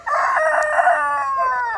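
Loud close rooster crow from a farmyard flock of mostly hens, one drawn-out harsh call that falls away at the end, with no voices.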